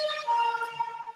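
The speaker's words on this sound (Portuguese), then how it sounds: "passando aqui a sirene, né?" Emergency siren from a vehicle passing along the street below a low-floor apartment, a steady wailing tone with stacked harmonics holding for about a second at moderate loudness, with no one speaking.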